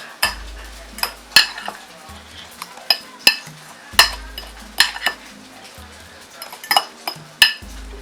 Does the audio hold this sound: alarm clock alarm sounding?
no